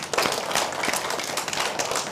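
Pupils in a primary school maths class clapping their hands together, a dense, steady burst of many overlapping claps filling the room for a couple of seconds.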